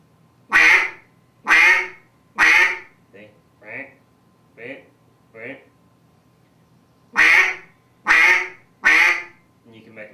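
A duck call blown in loud raspy quacks: three strong ones, four softer shorter ones, then three loud quacks again, close and alone.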